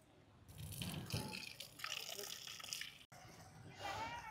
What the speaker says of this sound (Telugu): అక్కడ కుళాయి ఉంది కాబట్టి కాలు కడిగేసుకున్నాం